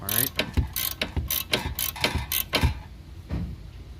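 Close, loud ratcheting clicks in quick bursts as a wrench turns a nut on the front lower control arm of a Chevy Impala, several runs of rapid pawl clicks with short pauses between.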